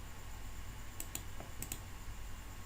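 Computer mouse clicks in a quiet room, two quick double-click pairs about half a second apart, crisp and faint over a low background hum.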